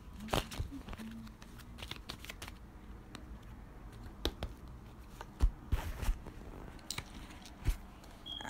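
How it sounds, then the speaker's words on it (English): A deck of tarot cards shuffled by hand gives soft, crisp riffles and flicks in scattered bursts, quiet and close, with no talking. "Let me shuffle the cards."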